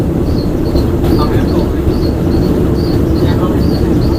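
A train runs through the jungle on the Death Railway in Thailand, taking a curve. A loud, dense low rumble from inside the carriage goes on steadily, with repeated faint high squeals, likely wheel squeal on the bend.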